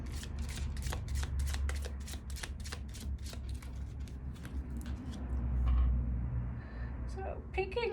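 A deck of witch-quiz cards is shuffled by hand in a steady run of crisp riffling bursts, close and fairly loud, with a soft low room rumble underneath.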